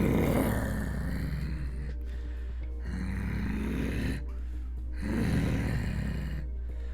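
A person's voice imitates a bear's growl in three long, throaty, rasping bursts, each rumbling deep in the chest with short pauses between, loud and close.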